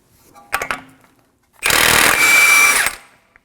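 A power tool runs on the axle nut of an Acura MDX through a 36mm socket. A couple of short bursts come first, then one loud sustained whirring run of about a second and a half, close up, with no talking.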